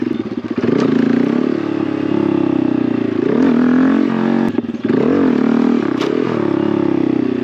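A Honda Grom motorcycle engine revs hard and sustains a loud, steady drone during a wheelie attempt, with brief throttle dips and rises around the middle and near the end, up close and without talk.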